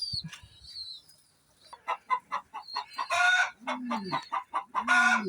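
A hen that has just laid an egg, cackling in a loud, insistent run of rapid clucks rising into drawn-out squawks, close by on a farm with rural background noise.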